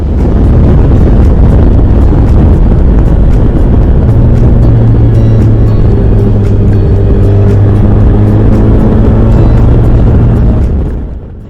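A classic Formula Ford racing car cruises slowly back to the pits at Cadwell, its engine a steady loud drone with heavy wind buffeting over the microphone, holding a low hum that fades out at the end.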